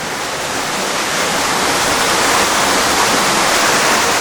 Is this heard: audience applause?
no